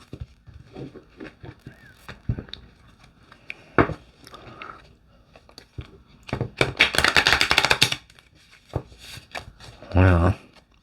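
A deck of playing cards is handled and shuffled, with scattered taps and then a dense riffling burst. A brief voice-like sound comes near the end.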